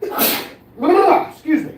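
A single loud human sneeze bursts out up close, followed by a person speaking briefly in a casual live-stream setting.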